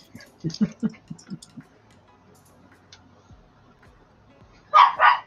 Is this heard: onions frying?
no